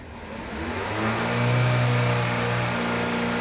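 A Ford engine revs up in neutral, rising from idle to a sustained higher-pitched drone and holding there, close and steady with no talking.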